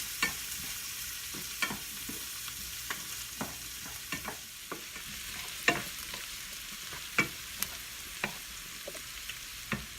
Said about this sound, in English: So first you put your chopped onions in. And you'll want to saute these until they're just lightly browned.